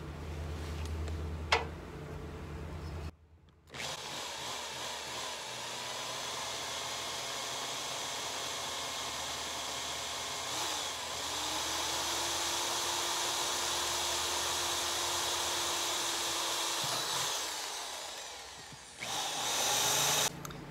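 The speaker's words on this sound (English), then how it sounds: "Now I've got my drill bit. This is just a pilot bit." A power drill whines steadily for a long stretch after a short pause, boring an oiled pilot hole through metal, its motor pitch shifting slightly, then stopping near the end.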